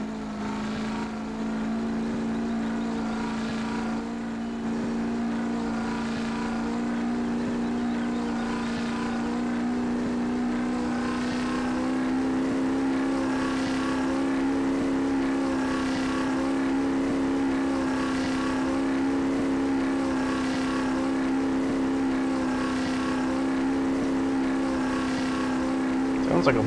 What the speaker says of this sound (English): Sounds like a boat.